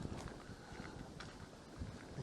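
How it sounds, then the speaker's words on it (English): Wind buffets the microphone on a boat in the Norfolk Broads in a steady rushing roar with gusty swells, loud and close, no other clear sounds. "Wind's picked up."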